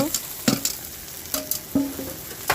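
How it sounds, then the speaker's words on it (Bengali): Fried okra tossed with ground neem leaves in a pan, several distinct spatula scrapes and clinks over a soft sizzle, close and intermittent, with no voices. "দিয়ে আবার একটু নাড়াচাড়া করে নেব"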